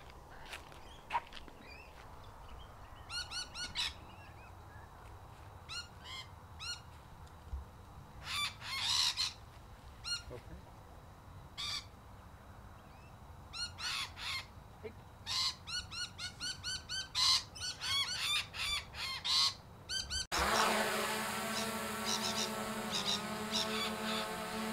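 Parrots calling outdoors in repeated bursts of harsh squawks and chirps spread across the clip, moderately near, ending in a louder steady mechanical whine.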